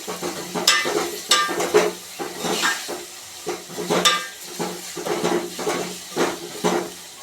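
Vegetables tempered with spices sizzle in a hot pan over a full gas flame while a spatula scrapes and stirs in repeated, uneven strokes, with occasional metallic clinks.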